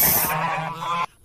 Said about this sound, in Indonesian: Angsa goose, angsa goose